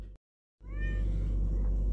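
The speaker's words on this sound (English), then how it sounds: "Look at that cat." A cat meows close by, a clear rising-and-falling cry that starts after a short silent gap and continues over steady low background rumble, heard in a truck driver's cab.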